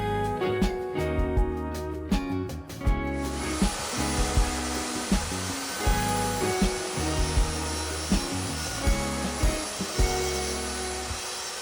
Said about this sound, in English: I'm going to lower my blade to cut about halfway through this piece